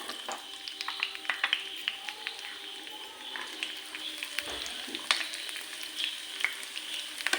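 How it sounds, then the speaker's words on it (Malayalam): Onions sizzle and crackle steadily in hot ghee in a pan, a close, busy frying hiss with small pops running throughout and no talk. "നെയ്യ് നന്നായിട്ട് ചൂടായി വന്നു കഴിഞ്ഞാൽ നമുക്ക് ഉള്ളി ഇട്ട് കൊടുക്കാം"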